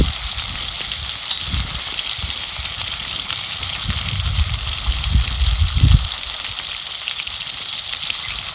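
Fresh fish frying in a pan, a steady, close hiss of sizzling oil with bubbling surges that rise and fall throughout, with no talking.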